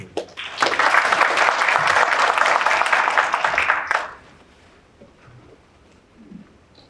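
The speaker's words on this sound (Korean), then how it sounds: "큰 박수 부탁드립니다." Audience applause at a Korean energy technology conference, welcoming a professor to present. The clapping is loud and sustained for about three and a half seconds, then stops abruptly, leaving faint room noise.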